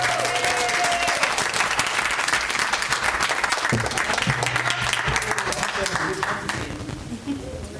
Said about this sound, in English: round of applause for Florencia